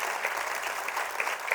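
Audience applause at a Marathi speaking event on Chhatrapati Shivaji, a steady wash of clapping sustained throughout at moderate distance, with no voices over it.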